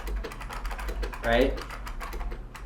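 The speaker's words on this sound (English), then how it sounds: "when you're typing on a Model M" Rapid clattery keystrokes on an IBM Model M keyboard, a quick uneven patter close to the mic, with someone talking briefly over it midway.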